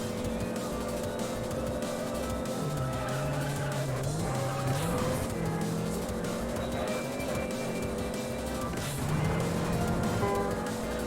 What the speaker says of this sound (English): I'm using a lot of nitrous here